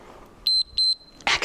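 A workout interval timer beeps three times in quick succession with short, sharp electronic tones at a steady pitch, followed by a burst of noise as the clip ends.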